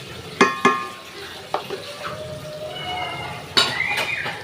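Chicken curry spices are stirred in a pan, with sharp metallic scrapes and clinks of a spoon against the pan over a faint sizzle.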